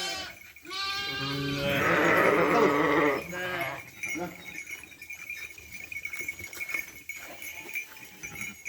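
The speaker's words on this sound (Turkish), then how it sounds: "Patlık buldum annesini." A Zwartbles cross lamb bleats repeatedly for its mother, one long loud wavering cry in the middle, with farm noise and background voices around it.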